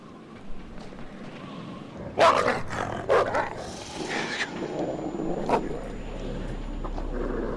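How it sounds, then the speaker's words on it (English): Dog growling in the horror video game Until Dawn, a few rough snarls and low growls over an uneasy ambient background, moderately close. "Good doggy boy, calm down."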